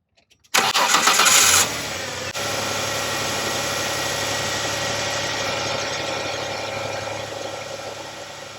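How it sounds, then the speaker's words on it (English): A 1989 Ford Ranger pickup engine with lost oil pressure cranks with a loud whirring starter for about a second, catches, then settles into a steady rumbling idle. "I'm going to fire up the engine"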